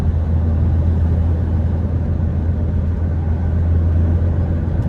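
The engine of a Subaru Legacy Spec B with a small exhaust leak idles in a steady, loud, low rumble that stays even and unbroken, with no voices over it.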